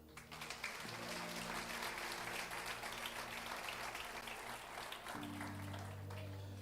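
Sustained applause from a church congregation at an anniversary celebration service, steady and full for several seconds with organ or keyboard chords sounding underneath.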